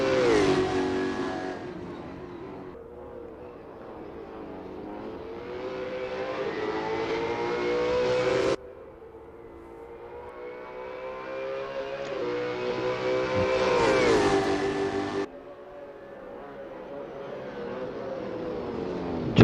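Super 2 race cars roar past at Albert Park, loud close engines rising in pitch through the gears in three long sweeps, each cut off sharply at a shift or pass, with no talk over them.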